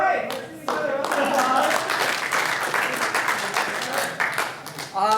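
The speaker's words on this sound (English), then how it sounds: "Let's give each other a round of" A crowd bursts into loud, sustained applause, many hands clapping together for several seconds before it fades out.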